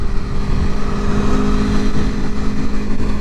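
Engine of a 2021 Aprilia Tuono Factory motorcycle running steadily and loud up close, a constant droning hum with a faint rising rev, heard alone.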